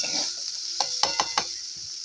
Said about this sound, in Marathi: पूर्ण अशी परतून घ्यायची